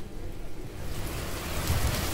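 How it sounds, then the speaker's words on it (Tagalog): Heavy rain pours down in a steady, dense hiss and roar that fills the whole stretch without pause. "Ay, lakas ng ulan, grabe."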